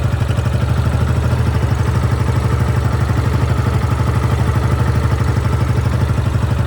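A Yamaha 250cc motorcycle engine idles steadily nearby, a loud, even, rapid chugging throb with a constant mechanical clatter.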